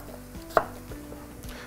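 A knife chops eggplant on a cutting board for moussaka, several sharp, spaced taps close up with one louder strike, no voices.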